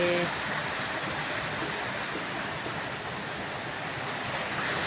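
Steady, dense hiss of summer rain pouring down continuously in Aurangabad, loud and unbroken throughout, with no distinct voices.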